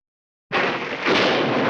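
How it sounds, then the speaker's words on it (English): Thunder booms in one sudden, loud burst after half a second of silence, then rolls on as a sustained, broad rumble without fading. "Then when the thunder booms, we stop."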